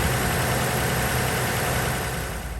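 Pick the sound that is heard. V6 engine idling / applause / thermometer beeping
V6 engine idling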